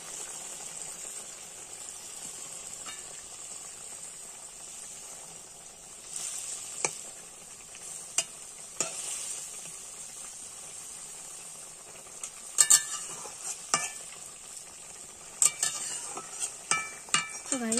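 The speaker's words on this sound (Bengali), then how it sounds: "পেঁয়াজটা ভাজা ভাজা হয়ে এবার মাছ দিয়ে দেবো।" Fish and onions frying in a wok-style pan over an earthen wood-fire stove, a steady close sizzle with occasional sharp clinks and scrapes of a utensil stirring, getting busier toward the end.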